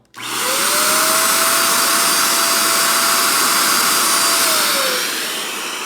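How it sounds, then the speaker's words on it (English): A loud vacuum cleaner motor, used with a straw to pop out a dented speaker dust cover, switches on abruptly and runs with a steady roaring whoosh and a high whine throughout. "hold the straw there, turn the vacuum on"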